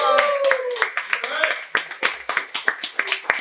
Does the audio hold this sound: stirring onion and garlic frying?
no